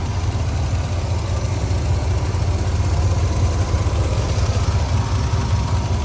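A 1983 Pontiac Firebird engine idling, a steady low rumble with an even, slightly pulsing beat, close and fairly loud, running alone with no talk over it.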